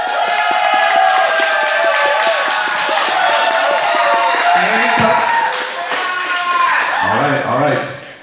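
A loud crowd cheers, whoops and claps for a twerk dance team at a dance competition, a sustained roar of voices and applause that fades out at the end.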